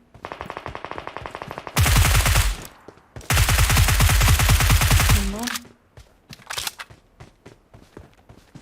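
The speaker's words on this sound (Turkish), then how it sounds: "Arkamda yine sıkıyor birisi." Automatic gunfire in PUBG Mobile on the Erangel map: two long, loud, rapid bursts of rifle fire a few seconds apart, followed by scattered single shots and footsteps.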